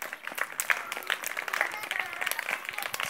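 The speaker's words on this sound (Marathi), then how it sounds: "बघा टाळ्या वाजवा त्यांच्यासाठी" Steady applause from a group of clapping onlookers cheering on students playing an outdoor game, dense and continuous throughout with faint voices mixed in.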